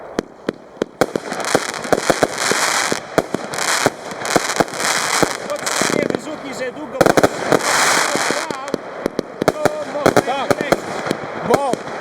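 A 20-shot Metal Box PXC220 firework cake fires dense dark gold effects in a rapid run of sharp launches and crackling bursts, loud and sustained, with a voice speaking over it at times.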